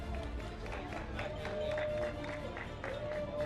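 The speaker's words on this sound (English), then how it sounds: "Give them a round of applause, please." Scattered applause and crowd noise from an audience at a karting race awards ceremony, heard faint and distant with a sustained tone and some murmuring voices mixed in.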